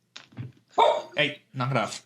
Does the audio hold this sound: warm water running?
no